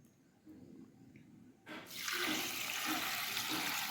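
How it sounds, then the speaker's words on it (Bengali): Cold water pours from a tap over chow mein noodles for soaking; quiet at first, then a steady, loud rush of running water from about halfway through that continues to the end. "এবার আমি চাউমিনটাকে ঠান্ডা জলেতে ভিজিয়ে নিচ্ছি।"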